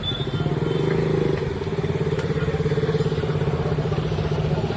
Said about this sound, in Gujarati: અર્જુનભાઈ બાઇક પાર્ક કરે છે.